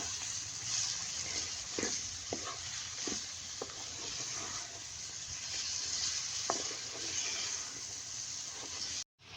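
Spices and chopped tomatoes stirred in a pan for aloo matar gajar sabzi, a steady soft sizzle with a few scraping spoon strokes, close and continuous with no talk, cutting off briefly near the end.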